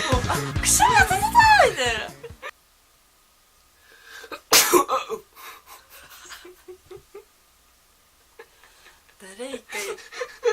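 One sharp sneeze bursts out in the middle, with people chatting and laughing before and after it in a quiet room.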